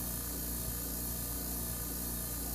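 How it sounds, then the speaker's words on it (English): A steady mechanical drone with a rapid ratcheting chatter running throughout, like a pump laboring continuously at a constant level. "I hear that pump's working pretty hard now"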